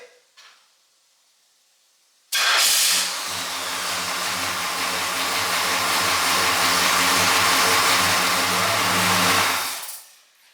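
A 1968 Pontiac GTO V8 cranks and fires at about two seconds, then settles into a loud, steady, rumbling idle close by with a hissy exhaust edge, running alone for roughly eight seconds before cutting off.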